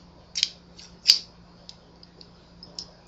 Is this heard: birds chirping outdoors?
no